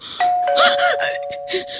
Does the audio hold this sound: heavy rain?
no